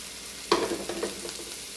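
Ivy gourd and curry leaves stir-fried in a pan for a Kerala-style fry, one sharp scrape at the start followed by a soft, steady sizzle and a few lighter stirring clinks, close by with no talking.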